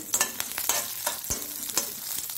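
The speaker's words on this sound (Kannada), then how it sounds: "ಈ ಬೆಳ್ಳುಳ್ಳಿಯನ್ನು ಹಾಕ್ಕೊಳ್ತಿದ್ದೇನೆ. ಬೆಳ್ಳುಳ್ಳಿ ಸ್ವಲ್ಪ ಇದರಲ್ಲಿ ಒಳ್ಳೆ ಫ್ರೈ ಆಗಬೇಕು." Garlic fries in oil in a pan for a Mangalorean clam sukka, a close, continuous sizzle with a few quick stirring scrapes through the short stretch.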